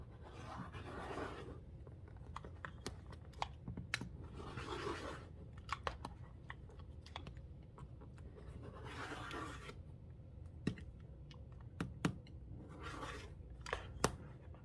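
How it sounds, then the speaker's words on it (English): Quilt fabric edges being trimmed: sparse, quiet snips and small sharp clicks with soft rustling of cloth in between, spread irregularly over a hushed room with no talking. "I'm going to go ahead and trim this off"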